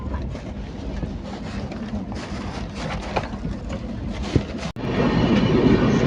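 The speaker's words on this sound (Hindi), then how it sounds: "हमारी ट्रेन पहुंच रही है तिरोड़ा" The Gondia-Mumbai 12106 Vidarbha Express running on rails, a loud continuous rumble with rhythmic clatter and wind buffeting that swells louder in the last second and a half.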